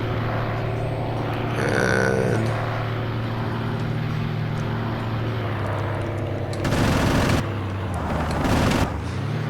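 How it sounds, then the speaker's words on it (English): Anti-aircraft fire in the Aces High 2 flight sim: bursts of flak go off in two loud broadband blasts near the end, over a steady engine drone, with a brief thump earlier. "We've got that anti-aircraft fire."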